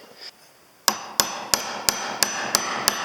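Sharp strikes on a chisel cutting wood for a camper van kitchen frame, seven evenly spaced knocks with a steady rhythm, close and fairly loud after a short quiet start.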